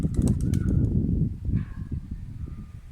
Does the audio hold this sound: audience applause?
no